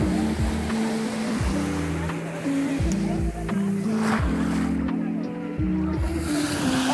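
Sea waves at Kalapatthar beach on Havelock Island, a steady loud wash of surf close by, with a low engine-like hum and faint voices mixed in.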